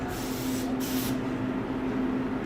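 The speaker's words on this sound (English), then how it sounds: "You just grab the gun and spray." Paint spray gun fed by a pump straight from a pail, spraying in a booth: a steady, loud hissing spray that runs without a break, with a brief brighter burst of spray near the start.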